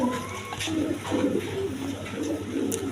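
A pair of silver-coloured racer pigeons coo softly and repeatedly at close range, low murmuring calls with faint background hum and no talk.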